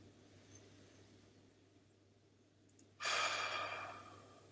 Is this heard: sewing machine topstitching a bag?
no